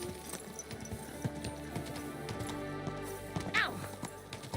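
Hooves clip-clop in a rapid gallop during a Hardcore Henry game session, a busy rhythmic patter mixed with other game sounds and a faint whinny, heard at low volume.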